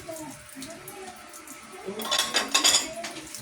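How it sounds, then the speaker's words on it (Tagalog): Tofu being washed in water in a kitchen, quiet handling at first, then louder splashing and sloshing with clinks of dishes near the end. "Hugasan ko muna yung ating tumpwa."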